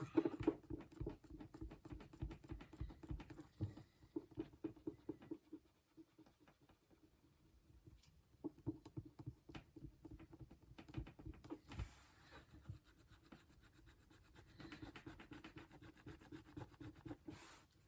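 An eraser scrubs on the cover of a Giant Size X-Men #1 comic book, circling around the staple: close, soft, raspy rubbing strokes in irregular bursts, pausing now and then, with no voices.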